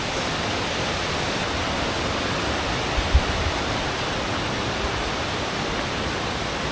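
A jungle river at a campsite, water rushing in a steady, dense, unbroken roar close by, with one faint low knock partway through and no voices.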